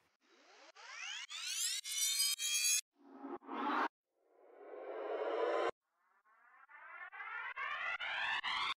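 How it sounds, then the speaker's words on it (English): Several rising synthetic sweeps, each swelling upward in pitch and loudness before cutting off abruptly, separated by short silences. "And you got some risers."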